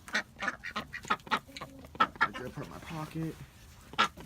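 Backyard ducks quack in short bursts at bedtime, mixed with chicken clucks, while a person talks close by over them.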